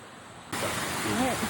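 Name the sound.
waterfall in Darién National Park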